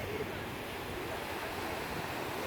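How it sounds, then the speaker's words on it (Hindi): Sea waves along the Jeddah seafront, a soft continuous wash of surf with light wind noise, fairly faint and steady throughout. "जो आवाज़ आ रही है ना समंदर के पानी से"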